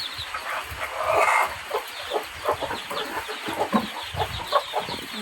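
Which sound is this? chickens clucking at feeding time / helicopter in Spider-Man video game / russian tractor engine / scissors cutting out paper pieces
chickens clucking at feeding time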